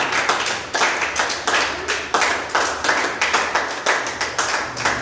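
A church congregation claps in a fast, steady rhythm, many hands together, bright and close, with no talking over it.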